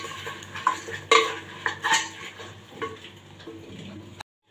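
Cucumber pieces are stirred in a pan for an Assamese khar curry with black dal, giving intermittent spoon-and-pan clinks and scrapes over a soft sizzle, close and moderately loud.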